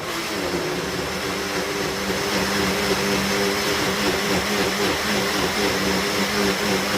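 A kitchen blender whirs steadily, blending cream into a strawberry shake with a constant mid-pitched motor drone and a bright, grinding edge, close and continuous throughout with no talk.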